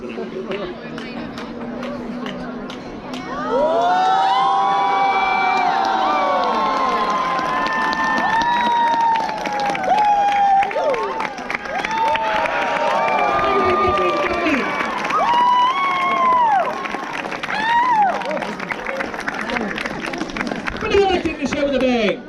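A live sword swallowing show audience cheers, whoops and applauds, many overlapping voices rising into loud sustained excitement that runs without a break for most of the stretch.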